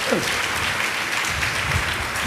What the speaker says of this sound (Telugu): అక్కడ కొట్టండి చప్పట్లకు వచ్చి గట్టిగా.